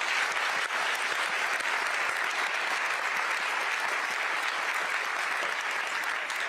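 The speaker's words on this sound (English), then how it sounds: "just a round of applause for the entire staff" Sustained audience applause for a team's staff at a political event for lawmakers, a dense, steady clapping from a large crowd that fills the whole stretch at even loudness.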